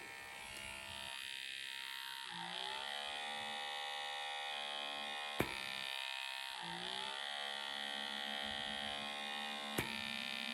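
Small electric blackhead remover vacuum running, a steady high whine and buzz that shifts in pitch as suction engages on skin, with a couple of sharp clicks and no talk.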